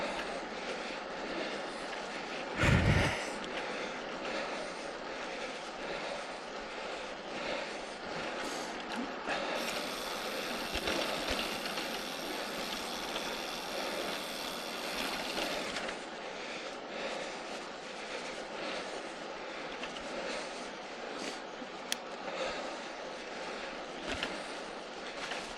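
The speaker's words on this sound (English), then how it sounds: "Rattly mudguards." Mudguards on a Triban RC500 road bike rattle over a steady rush of rolling and wind noise, with a sharp knock early on and a brighter stretch of rattling midway.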